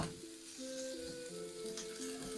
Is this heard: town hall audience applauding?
no